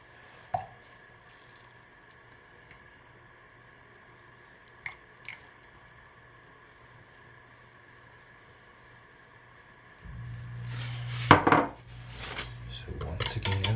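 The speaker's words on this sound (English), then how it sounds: "And stir our fragrance into each one." Fragrance hand-stirred into batches of melted soap base for a tiger stripe soap: a couple of faint isolated clicks, then a closer burst of scraping, clinking utensil-on-container stirring in the final seconds.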